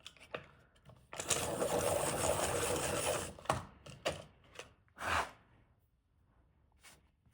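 Colouring pencil worked in a pencil sharpener during a colouring session: a close grinding, rasping burst lasting about two seconds, then a string of shorter scrapes, taps and one more brief grind, with quiet gaps between and no talking.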